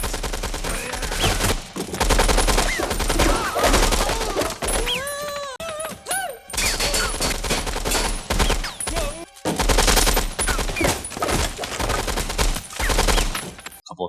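Rapid machine-gun fusillades from a shootout in the film True Lies crackle loudly in bursts over a driving music score, briefly broken by a few seconds of tonal calls.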